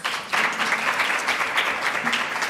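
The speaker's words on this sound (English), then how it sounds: "Another round of applause." An audience at a student symposium gives a short burst of applause after a talk, steady clapping at moderate level with a brief swell near the start.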